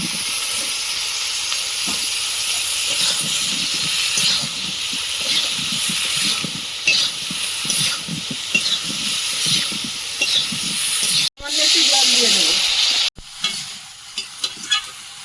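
Cauliflower and potato fry in oil with cumin powder, turmeric and salt for a Bengali cauliflower-prawn curry, giving a loud, steady sizzle with stirring scrapes; the hiss cuts out briefly near the end, then resumes.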